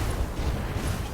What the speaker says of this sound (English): I'm gonna go for airburst.